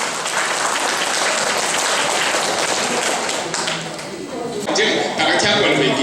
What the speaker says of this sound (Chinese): 我们现在就热烈鼓掌